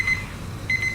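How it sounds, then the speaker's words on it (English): Short electronic beeping from a timer alarm in the survival game Empyrion Galactic Survival, one beep near the start and a quicker run of repeated beeps near the end, moderately loud over a low background hum. "there goes our timer"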